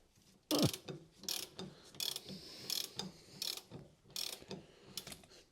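Ratchet clicking in repeated bursts while a nut on a Mercedes W126 anti-roll bar is turned, several short sharp ratcheting strokes separated by brief pauses, close and fairly quiet.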